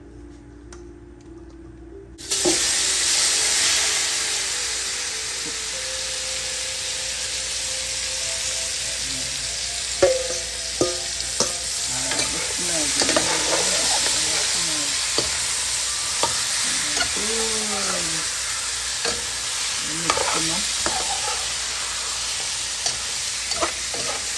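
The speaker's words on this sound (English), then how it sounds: "Normally I like to burn a little curry in the oil." Oil bursts into a loud, steady sizzle as curry hits the pan, crackling continuously with occasional clinks of a utensil stirring.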